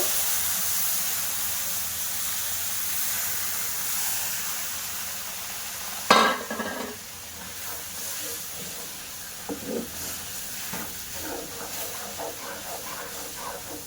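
Semolina fries in a pan with a continuous hiss before milk is poured in. The milk sets off a sudden loud, spitting burst that quickly settles into softer sputters and bubbling.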